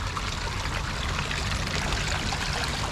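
Water splashing steadily from a garden pond pump return outlet, a continuous bright pouring and trickling rush, close and even throughout, with no voices.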